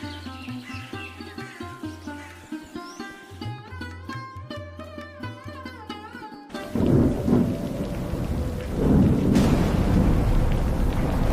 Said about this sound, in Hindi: कुछ दिनों बाद बरसात की आखिरी और सबसे तेज रात आ गई।